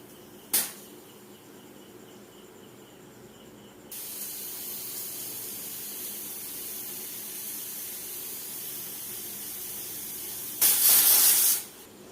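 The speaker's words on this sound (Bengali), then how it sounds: "2টো সিটি দিয়ে নেব।" Pressure cooker with rice and lentils on a gas stove, making a steady hiss of escaping steam that grows louder midway and ends in a brief, loud, high whistle blast.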